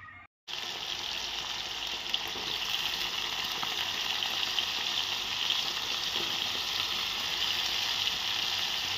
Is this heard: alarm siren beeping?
no